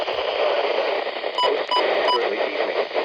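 Hissy, static-laden reception of a NOAA weather radio broadcast, a continuous noisy band of sound broken by three short, bright beeps in the middle.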